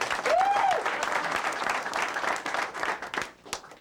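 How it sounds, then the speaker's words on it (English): A crowd gives applause for the LSU football team, a sustained, dense clapping that is loud at first and then fades near the end, with a brief whistle-like tone early on and a voice faintly underneath. "Round of applause for this team"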